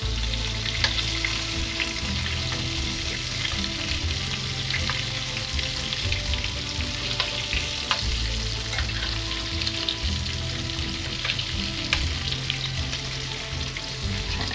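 Chicken nuggets fry in hot grease with a dense, steady sizzle and crackle, close up, with occasional sharper pops and no one talking.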